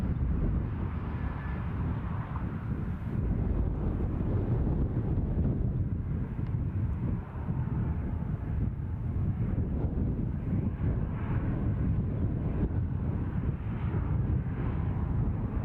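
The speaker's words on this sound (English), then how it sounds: "with the prevailing wind being what it is, east-north easterly, the takeoff's on off, putting some blow my way" Steady wind buffeting an outdoor microphone beside Newcastle International Airport, blowing from the east-north-east: a continuous low, rumbling roar that fills the whole stretch, with no voices heard.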